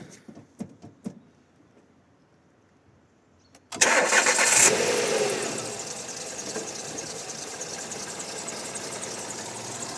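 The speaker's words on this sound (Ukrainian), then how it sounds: "Так, зараз вам покажемо, як працює автомобіль." A few soft clicks, a pause, then a Renault Megane 3 engine cranks from cold and catches with a loud burst before settling into a steady idle nearby.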